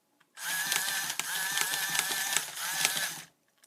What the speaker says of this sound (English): Now you can actually hear something clicking like I was saying.